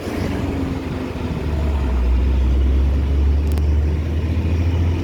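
A tall truck passes on a road in a flood-hit area of West Sumatra, its low engine rumble swelling close and loud, then holding steady, with no talk over it.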